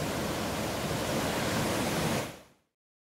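Roaring broadband rush of waterfalls heard from just above them, a dense, steady wash of falling water that holds level before fading out to silence.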